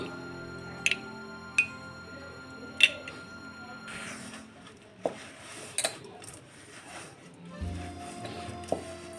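A spoon mixing yogurt and granulated sugar in a bowl, with faint, sparse clinks and taps against the bowl in a quiet room.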